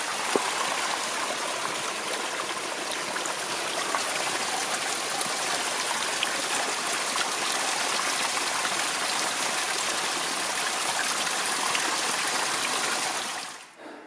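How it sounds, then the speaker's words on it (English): A running brook on the back side of Slide Mountain in the Catskills rushes in a steady, full wash of water, close and continuous, ending abruptly. "running brook here."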